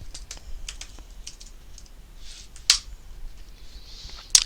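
Typing on a computer keyboard while setting up a Selenium C# test project: a run of quick, light key clicks, then a pause and a few sharper isolated taps, close and fairly faint.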